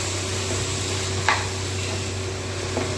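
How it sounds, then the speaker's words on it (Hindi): Whole green moong dal is stirred in a hot pan, a steady low frying sizzle with a couple of soft spoon scrapes, close up and without speech. "इस तरीके से मूंग डाल दें। अब इसे अच्छे से मिक्स कर लेंगे।"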